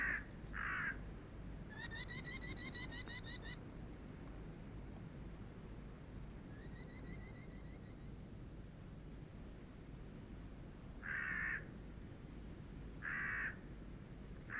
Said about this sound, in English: The boldest culprits are the hooded crows.